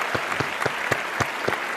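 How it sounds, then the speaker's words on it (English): Audience applause sounds as a handful of sharp, distinct claps in a fairly regular rhythm over a soft bed of quieter clapping, close and brief. "Give him an applause."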